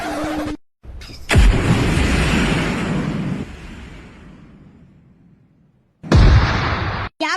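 Cannon fire in a cartoon about the India–Pakistan border: a heavy boom bursts out and rolls into a long fading rumble, followed by another sharp blast near the end, loud and close.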